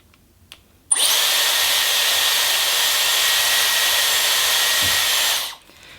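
A Dyson hair dryer switches on with a click and runs with a steady, loud whoosh for several seconds, then shuts off.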